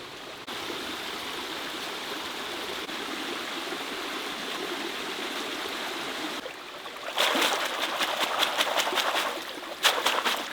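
A cool forest stream runs steadily with a continuous rushing flow. Later, close splashes and sloshing rise above it as hands and clothes are washed in the water.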